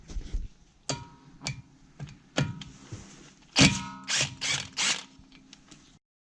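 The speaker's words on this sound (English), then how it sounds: "I'll take the rotor off. There's a T47 bolt holding the rotor down." A hand ratchet loosens the T47 bolt securing a Porsche Cayenne front brake rotor, giving bursts of sharp clicking strokes spaced irregularly, louder and quicker in the second half, close and without talk.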